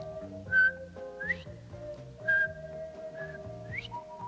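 A person whistles an imitation of a male bobwhite quail's call, giving two clear rising whistled phrases over soft background music, close and fairly quiet.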